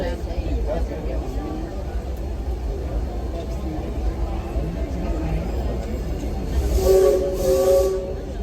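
Rumbling Disneyland Railroad train departing a station, with hissing steam and a brief whistle near the end, while voices talk over the mechanical noise.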